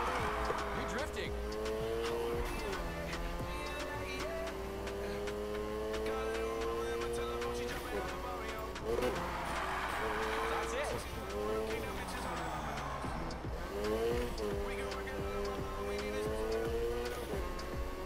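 A car drifts in Need for Speed Heat with sustained tire squeal and revving engine whine rising and falling through long slides, while a voice talks over it.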